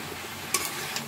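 Taro stolons and pangas fish pieces sauté in a pan, giving a steady low sizzle with a couple of faint scraping clicks from stirring, close and quiet.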